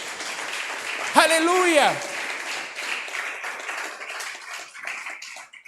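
A church congregation applauds during a Spanish-language sermon, a steady crackle of clapping running throughout while a voice calls out loudly over it for about a second, and the clapping carries on softer afterward.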